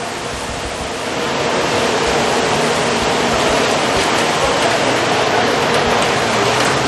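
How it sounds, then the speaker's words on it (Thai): Steady night rain in Bangkok, a dense even hiss that swells after the first second and then holds loud and unbroken, with no voices. "เสียดายพี่น้องเสียดายฝนตก"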